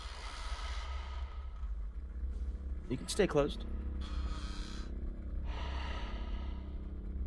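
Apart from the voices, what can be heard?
eerie breathing sound in a video game city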